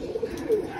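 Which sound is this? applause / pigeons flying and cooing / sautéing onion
pigeons flying and cooing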